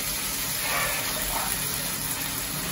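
Tamarind water is poured into a cooking pan for a herbal kuzhambu, giving a steady close gush of liquid that runs continuously through the moment.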